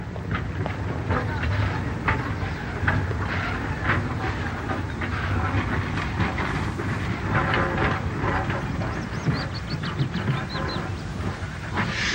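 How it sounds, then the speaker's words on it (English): A steam locomotive hauls a mixed goods train on the Stour Valley main line north of Wolverhampton High Level toward Bushbury, a loud steady rumble with faint rhythmic rail clatter and someone narrating over it. "This same loco is seen later just north of Wolverhampton High Level Station on the main Stour Valley line, with a mixed goods train heading for Bushbury"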